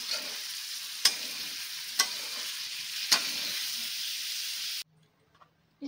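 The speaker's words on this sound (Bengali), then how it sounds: "ভেজে নিচ্ছি, একটু লাল লাল করে ভাজবো।" Paneer frying in oil until reddish, a steady broadband sizzle with three sharp utensil knocks spaced about a second apart, cutting off abruptly to near silence near the end.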